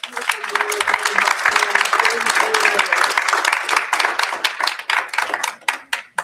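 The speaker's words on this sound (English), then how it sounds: "if we could get one more round of applause for Jake." Sustained applause from mourners at a funeral service, a dense round of clapping that gradually breaks into scattered individual claps before fading, with a few voices faintly underneath.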